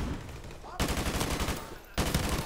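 A flashbang grenade going off in Call of Duty: Modern Warfare Remastered, with loud, dense bursts of sharp cracks and rattling gunfire, close and harsh, stopping briefly before a second burst.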